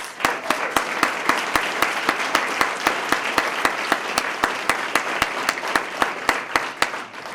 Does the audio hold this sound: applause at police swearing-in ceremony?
yes